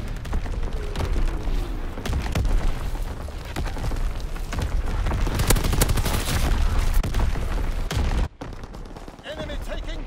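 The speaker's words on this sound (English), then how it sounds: "Incoming enemy artillery!" Artillery barrage and gunfire in Call of Duty: WWII domination match at Pointe du Hoc, dense booms and rattling shots running continuously and loud, with a sharp drop near the end, under shouted game voice callouts.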